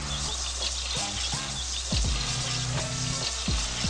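Meatballs browning in a hot pan give a steady, close frying sizzle, with occasional clunks and scrapes as they are rolled around.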